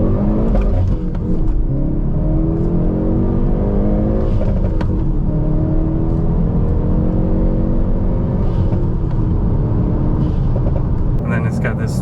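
A Hyundai Veloster N accelerates hard from inside the cabin, its engine note climbing steadily and staying loud and droning throughout, with shifting harmonic tones as the revs rise.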